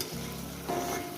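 Spice paste loosened with a little water sizzles steadily in a hot pan while being fried for a Bengali katla fish curry with drumsticks and potato, a brief, even frying hiss with no voices.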